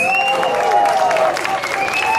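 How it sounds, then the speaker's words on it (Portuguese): Brief crowd applause during a night march for racial democracy in central São Paulo, clapping blended with voices and street ambience. "Uma salva de palmas para o jogo dos Guaianazes."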